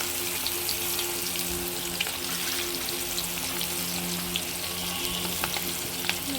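Chopped onion sizzles steadily in hot oil with whole cumin tempering, a dense continuous frying hiss that stays even throughout with no talking.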